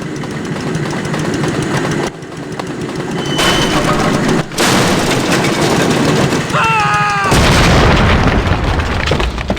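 A Russian minecart explodes in the Indiana Jones and the Infernal Machine video game: loud, dense rumbling blasts with crackling debris that keep roaring, briefly cut out twice, then swell again near the end.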